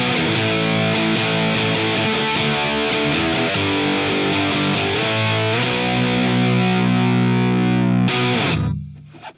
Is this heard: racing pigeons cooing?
no